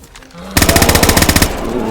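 Automatic gunfire in the video game DayZ, a rapid burst of about fifteen evenly spaced loud shots lasting roughly a second, close and sharp, ending abruptly.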